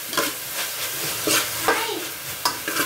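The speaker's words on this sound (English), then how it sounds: "And you just stir it up" Food being stirred in a pan over low heat, a spoon scraping the bottom in a few irregular strokes over a soft, steady sizzle, close and moderately loud, with no talking.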